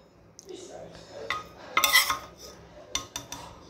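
Boiled rice and food being served onto plates at home, soft scoops and scrapes building to a brief clatter of utensils against dishes, then a few quieter clinks.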